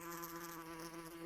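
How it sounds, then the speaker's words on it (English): A bee buzzes steadily and close, a continuous droning hum with a rich harmonic whine that holds for the whole moment without pause. "a bee around you"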